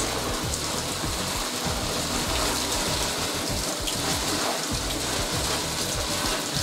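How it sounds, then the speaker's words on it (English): A shower head sprays water steadily over houseplants to rinse off washing-up liquid suds, a loud, continuous hiss and patter of spray close by with no talk. "we're going to spray it off with the shower."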